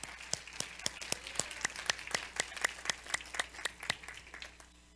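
A congregation at a church service claps in a steady, even rhythm, sharp regular hand claps repeating about every quarter second at moderate distance, with no talk over them.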